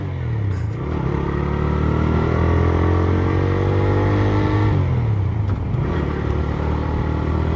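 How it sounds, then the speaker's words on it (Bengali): TVS Raider motorcycle exhaust while riding, a loud, close engine drone that rises in pitch as it revs up, dips, then climbs again, with wind rush and no talk. "টিভিএস রাইডার বাইকটির এক্সস্টের সাউন্ড সত্যিই জোস"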